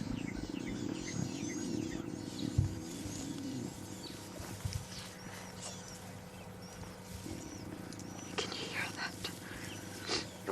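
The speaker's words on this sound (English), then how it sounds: "the lion cubbies getting vocal" Low growls and grunting calls from lion cubs, mixed with a wild outdoor ambience at a sunrise safari and faint bird chirps in the distance.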